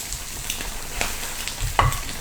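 Garlic fries in oil in the middle of a pan, with a steady close sizzle and a couple of light stirring knocks near the end.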